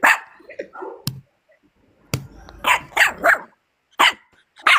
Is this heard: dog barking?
yes